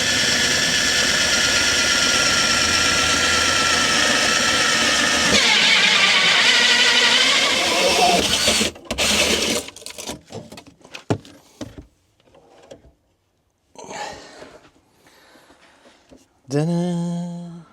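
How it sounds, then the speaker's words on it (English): A power drill bores a large hole during a shower installation, whining loud and steady for about nine seconds with a pitch shift midway. It then cuts off, leaving scattered clatter and short handling noises. "on this side here, I'm going to drill a big hole so I can access it easier"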